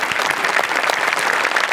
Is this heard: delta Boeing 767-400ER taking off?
no